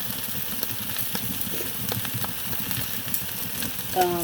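Garlic sizzling and frying in a pan, a steady close crackle with light stirring throughout, alone without talk.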